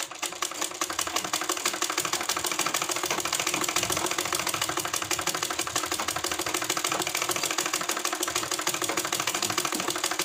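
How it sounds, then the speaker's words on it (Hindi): A sewing machine runs a seam on a kurti, its needle chattering in a fast, even mechanical rhythm, loud and close and continuous with no talk. "तो इसको घुमाकर हमने एक सिलाई और लगा लिया"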